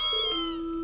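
A kitten meows once inside the Trails of Cold Steel video game, a clear, close, rising-then-steady tonal cry heard alone without talk.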